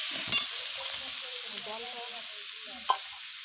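Chicken feet and tripe with potato and spices are stir-fried in a pan. A soft, steady sizzle carries under a faint murmur of voices, and a couple of spoon knocks stand out.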